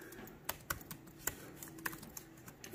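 Someone types a short search on a computer keyboard, about a dozen separate clicky keystrokes at an uneven pace, close and alone with no talk.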